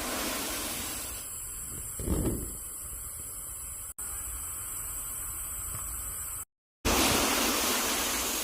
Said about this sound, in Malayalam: വാൽപ്പാറ വെള്ളച്ചാട്ടം.